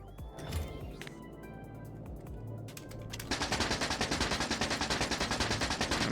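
In Factorio, an automatic gun fires a rapid, even stream of shots that starts partway through and keeps going to the end, loud and close, after quieter game sounds.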